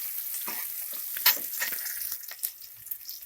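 Onions frying in a pan for a Kannada ridge gourd and lentil sambar, with a steady crackling sizzle broken by a few sharper stirring scrapes and pops, close by and with no voices.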